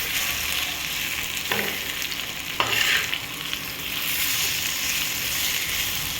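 Bombil (Bombay duck fish) fries in a pan over low gas, a steady close sizzle with a couple of brief louder crackles as pieces are spread out.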